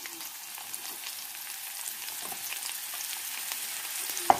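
Onions frying in hot cooking oil, a soft, steady sizzle with faint crackles, fairly quiet, and a small clink near the end; no talking.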